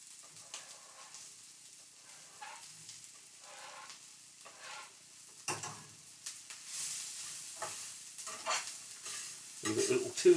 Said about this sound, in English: I'm going to put it in the frying pan, as you can see here, and it's nice and hot, so that should start to sizzle straight away.